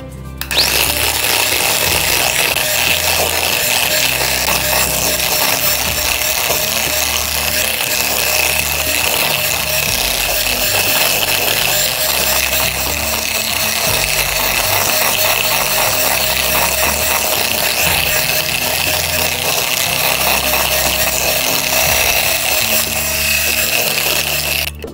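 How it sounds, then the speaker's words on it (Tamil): Electric mixer beating eggs for almond cake batter, a loud, continuous whirring buzz with a rattling texture that runs unbroken from start to finish, with no voices over it. "நல்லா கிரீம் பதம் வரும் வரையில் பீட் பண்ணிக்கோங்க"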